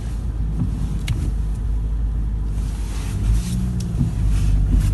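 A car drives along at night toward another vehicle, a continuous low engine and road rumble from inside the cabin with no voices.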